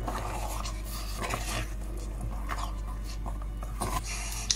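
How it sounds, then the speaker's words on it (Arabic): Sweet cheese dough for halawet el jibn is stirred quickly in a pot, giving soft, faint scraping and sticky squishing strokes in an irregular rhythm over a low steady background hum. "نحرك على السريع"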